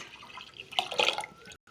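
Tamarind water splashes briefly into a pot of rasam, a short pour with dripping that peaks and then stops abruptly.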